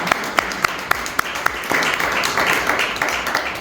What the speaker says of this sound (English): Let's give them hands of applause once again.